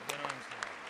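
Audience applauding Zelensky at a speech, a dense wash of clapping from a large crowd with a low voice-like hum underneath.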